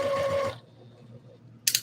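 A sewing machine stitches in a brief steady whir for about half a second, then stops, followed by near silence and a short sharp mechanical clatter at the end.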